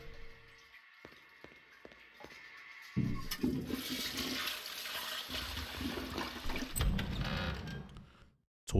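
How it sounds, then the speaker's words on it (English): A toilet flushes in the Silent Hill: Origins video game, starting with a few sharp knocks, then a loud, close rush of water that gurgles steadily for several seconds before cutting off abruptly. "Toilet flushed."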